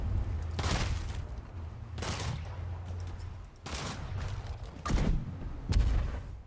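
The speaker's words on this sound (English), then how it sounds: "even these like explosions and stuff" Explosion sound effects from a game demo reel, a series of sharp booming blasts with rumbling tails, spaced irregularly and fairly quiet overall.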